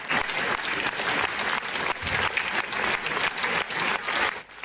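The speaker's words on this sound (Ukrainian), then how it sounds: "Овації лунали кілька хвилин." A concert audience gives a long ovation for a veteran folk artist's anniversary performance, loud dense clapping that swells and surges in waves throughout, with a slight drop right at the end.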